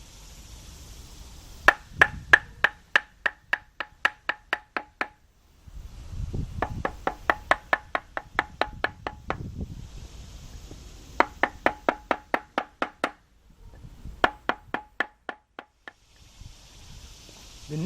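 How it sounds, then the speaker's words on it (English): A piece of wood rapidly tapping a timing belt part onto the engine of a 2000 Isuzu Rodeo 3.2 during head gasket and timing belt work: four bursts of sharp, evenly paced knocks, each run of about ten hits, close and clear. "Take a piece of wood, place it up there, and tap it in."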